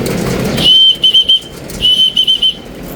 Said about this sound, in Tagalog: Dapat talaga hindi tayo magpapalit talaga ng pito.